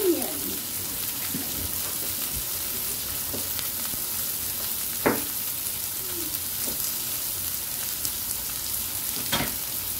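Garlic and onion sautéing in a pan for glass noodle soup, giving a steady close sizzle of frying with occasional stirring clicks and scrapes.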